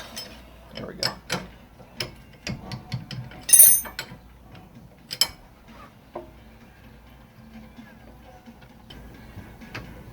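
Ratchet loosening a bolt on a vehicle's front suspension, sparse quiet clicks and metallic taps close by in the first half, then near silence.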